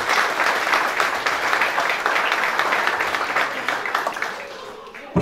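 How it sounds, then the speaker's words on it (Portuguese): Guests at a seventh anniversary party of a folk group in Faial, Azores, applaud in a full, sustained round of clapping that holds steady for several seconds before tapering off. "Uma salva de palmas para eles também."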